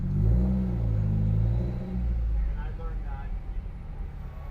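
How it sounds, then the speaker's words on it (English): A car creeping through slow night traffic on the Las Vegas Strip, with a low engine rumble and steady road hum, while someone talks over it near the end. "Traffic is moving at a creeping slow pace right now."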